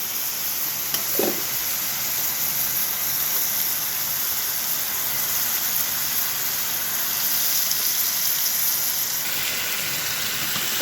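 Fish is frying in spiced oil in a pan with bitter gourd. A loud, steady hiss and sizzle carries on without pause close to the listener, with a brief clink partway through and no voices.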